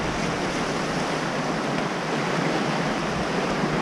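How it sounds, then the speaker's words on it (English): River waves splash and rush without a break during a white-water rafting trip in the Smoky Mountains, Tennessee. The sound is loud, broad and close, with no voices over it. "I'll try to dodge some of these waves."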